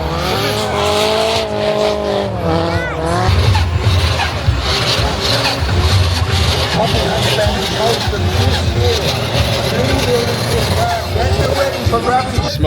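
A car drifting at a large indoor UK car show, its engine revving and tyres squealing loudly and continuously over crowd noise, with people talking close by.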